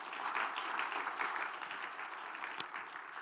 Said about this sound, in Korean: 우리 특별히 목회자들을 위해서 박수 한번 쳐주세요.